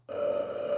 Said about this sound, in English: That was a glorious belch.